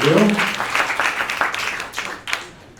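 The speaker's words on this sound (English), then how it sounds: "Let's give him please a big round of applause." Audience at a community evening event applauds after a rabbi is thanked, a short burst of clapping mixed with a voice speaking over it, tapering off within a few seconds.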